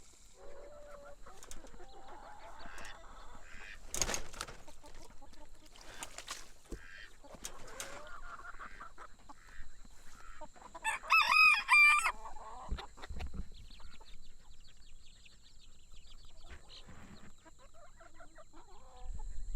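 A flock of about sixty backyard poultry during the feeding and egg-collecting chore, with a rooster crowing clearly around the middle and scattered clucks and hen chatter throughout, set against light farmyard background noise.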